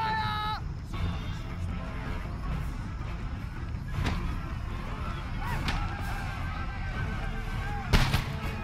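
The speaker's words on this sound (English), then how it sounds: "Open fire!" Musket volley fire in the Empire: Total War video game, sharp cracks breaking out over a constant dense battle din, with a strong burst near the end.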